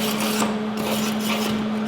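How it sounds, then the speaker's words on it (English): A stainless steel wire brush scrubs the tack welds on a MIG-welded fillet practice piece held in MIG pliers, a steady close rasping over a constant low hum with no talking. "Now we're going to clean off those tacks with our stainless steel wire brush using our MIG pliers to control the piece."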